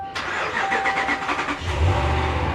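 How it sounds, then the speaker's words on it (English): A repo car with push-button start cranks and struggles to catch, a loud close whirring crank with uneven pulses that settles into a rough, low idle. "She did not want to start up very well."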